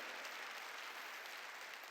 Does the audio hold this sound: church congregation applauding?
yes